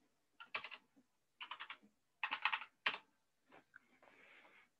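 Bursts of typing on a computer keyboard while entering a terminal command, close and clear, with several quick clusters of key clicks separated by short pauses.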